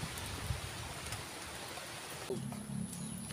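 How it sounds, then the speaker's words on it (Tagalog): Rain falls steadily outdoors on a planting field, a faint, even hiss with scattered drops and a low hum joining midway, with no talk. "umuulan po ngayon dito sa amin"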